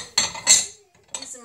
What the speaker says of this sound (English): these are my little Christmas dishes